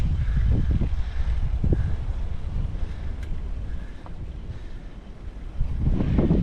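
Wind rushes across the microphone while cycling a climb in Taipei on a cool, roughly 60-degree January day, steady buffeting with stronger low gusts near the start and end, and no talk.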